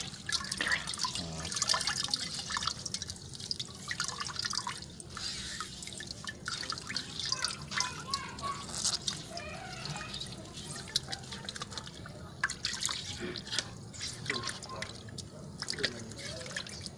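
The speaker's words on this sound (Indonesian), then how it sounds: "Tapi ada yang keluar kok airnya, ada yang keluar." Water drips and trickles out as a bag of JMS microorganism solution is squeezed by hand, a close, patchy run of small splashes and dribbles lasting the whole stretch.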